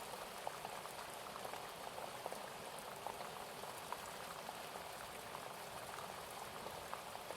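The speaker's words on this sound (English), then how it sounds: "it sounds like that rain is calming." Steady rain patters and fizzes on a surface, a soft continuous wash with scattered small drops, faint and even throughout with no voices.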